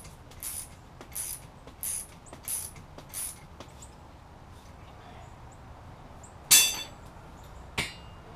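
A spring compressor being tightened on the front-end coil spring of a 1972 Oldsmobile Cutlass gives a series of rhythmic metallic clicks and taps, followed by a couple of louder sharp clanks near the end, in a quiet workshop.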